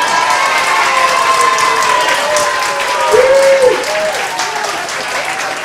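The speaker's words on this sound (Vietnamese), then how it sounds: "Xin quý vị cho một tràng pháo tay cho Việt Nam" Sustained audience applause at a party, steady and dense throughout, with a few voices and whoops rising briefly over the clapping midway.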